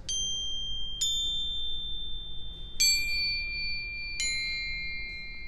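Four bright, ringing metallic strikes of small crotales, each sustaining a high pure tone that lingers and overlaps before the next hit.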